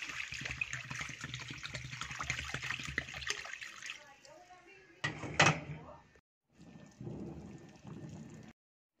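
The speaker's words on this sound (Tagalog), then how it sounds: "Lagyan na po natin ng tubig." Water splashes and pours into a pot of frying mung beans over the sizzle, followed by a sharp clatter and a quieter bubbling stretch.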